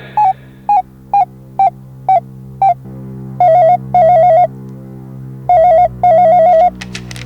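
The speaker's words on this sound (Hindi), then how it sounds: "कंप्यूटर जी नब्बू जी के मित्र शाहरुख जी को फोन मिलाया जाए" Electronic telephone ringtone calling a friend named Shahrukh on a comedy quiz show: six short chirping tones, then two pairs of longer warbling rings, loud and close with no talking.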